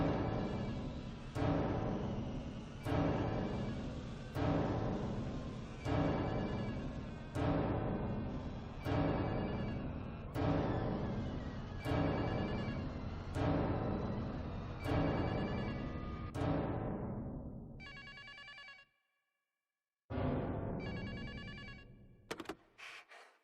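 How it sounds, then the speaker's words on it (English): An old-style telephone bell in a video game trailer rings in regular bursts about every one and a half seconds, a dozen rings in all, then a short pause followed by a few faint tinny chimes. "that phone sounds like it's gonna die"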